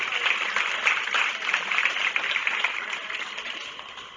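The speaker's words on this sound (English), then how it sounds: "Let's give this young lady a nice round of applause." Applause from the audience at a county fair dairy goat show, a steady mid-distance patter of many hands that keeps going evenly through the whole stretch.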